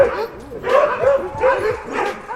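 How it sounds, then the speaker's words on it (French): Huskies at a dog sledding kennel in Québec give repeated yips and barks with whimpering mixed in, rising in bursts at a close distance, with people talking alongside. "une trentaine de huskies qui aboient et courent dans tous les sens"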